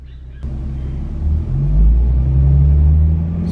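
A manual-transmission project car pulls away on a rough start, its engine rumbling low and loud, surging as it revs and holding a steady drone for several seconds.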